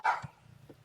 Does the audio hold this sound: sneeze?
no